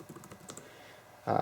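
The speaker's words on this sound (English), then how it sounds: "you can see if I zoom in here and type "this is a test,"" Quick light key clicks tap out a short burst of typing on an F8S Bluetooth backlit keyboard case for an iPad Air, followed by a louder, harsher rustle at the end.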